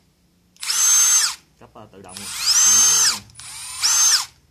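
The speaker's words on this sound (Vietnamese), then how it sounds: "Khoan AIG 3 chức năng." A cordless AIG three-function drill runs in three loud, close high-pitched whirring bursts, each spinning up and down. A brief voice speaks between the first two bursts.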